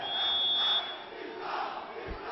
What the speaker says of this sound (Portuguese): E a torcida do Sport solta a voz.